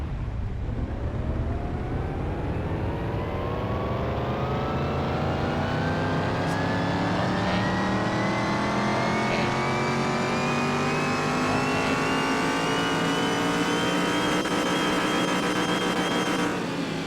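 A car engine in a video game revs steadily on a dyno test, its pitch climbing smoothly and continuously as it winds up through the rpm range, loud and sustained with no pauses.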